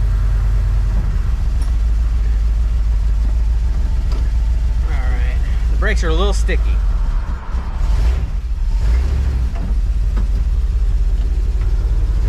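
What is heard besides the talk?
1973 Dodge W200 truck engine running after starting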